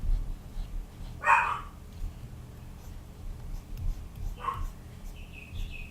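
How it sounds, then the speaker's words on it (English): Two Pomeranians, Sky and the smaller Cherry, bark indoors, likely from a window: a short burst of yips near 1.3 seconds and another near 4.5 seconds, fairly faint over a low background hum. "That's my dog barking."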